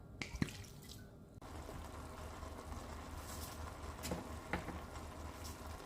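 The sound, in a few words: homemade apple cider vinegar poured into a pan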